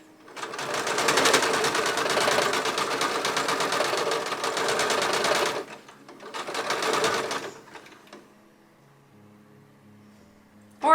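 A sewing machine stitches a quilt block in a steady, fast mechanical whir that runs for several seconds, pauses briefly, then buzzes again in a shorter burst before stopping, close and loud.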